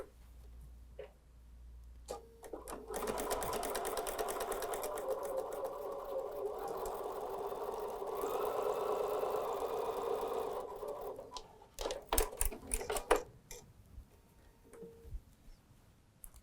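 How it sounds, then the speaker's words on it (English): A sewing machine stitches fabric pieces right sides together at a quarter-inch seam for a small pint-size table runner, running in a steady close whirring burst for several seconds, then stopping amid clicks and handling of the cloth. "So I'm going to certainly start sewing from here, right side together."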